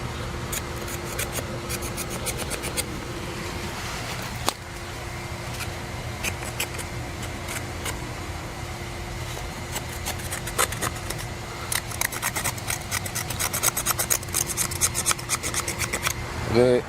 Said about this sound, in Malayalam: അത് കംപ്ലീറ്റ് ചുരണ്ടി കളയണം